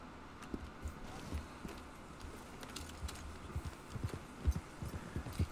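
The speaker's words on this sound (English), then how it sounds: "Hey, horse, thank you for coming." Horse hooves clip-clop steadily through the open world of Red Dead Redemption 2, a fairly close, uneven run of hoofbeats over a soft wind-like bed, with no talking.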